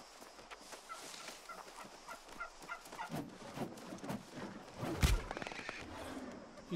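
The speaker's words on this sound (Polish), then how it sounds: "Tu jest indyk." A turkey in the online game New World gobbles in a rapid, rattling run of calls over ambient game noise, with a sharp thud-like hit near the end.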